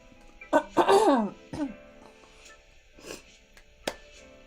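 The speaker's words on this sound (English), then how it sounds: "Oh, I'm gonna cough." A person gives a harsh throat-clearing cough, then a few smaller coughing sounds follow and a sharp click near the end, close by.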